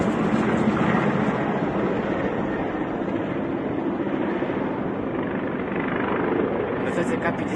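Russian Ka-52 attack helicopters fly overhead near Bucha toward Kyiv, a loud, steady rotor and engine roar filling the whole stretch, while people talk beneath it.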